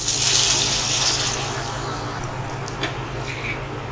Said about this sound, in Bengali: দিয়ে দিব সামান্য পানি